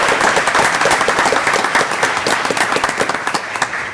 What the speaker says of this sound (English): Another round of applause for the bands.